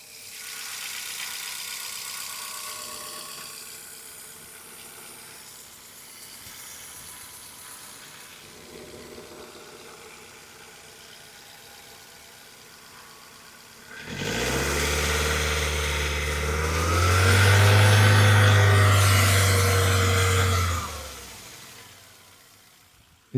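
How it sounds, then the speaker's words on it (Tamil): Petrol engine of a 2012 Chevrolet Beat idling steadily with a low hum, then revved hard with a loud rising roar that holds for several seconds before dropping back; a mic sits close to the engine. "இப்போ இந்த வண்டியோட இன்ஜின் சவுண்ட் எப்படி இருக்குன்றதை அந்த மைக்கை பக்கத்தில் வச்சு காட்டிடும்"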